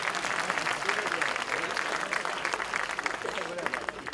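An audience claps steadily throughout at a mushaira poetry recital in Delhi, a dense, fairly loud applause with a voice speaking over it.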